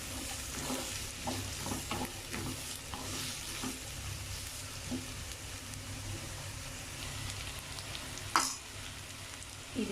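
Chopped onions being stirred with ginger garlic paste in a frying pan, a quiet steady sizzle broken by soft rhythmic spatula scrapes, with one sharper clank near the end.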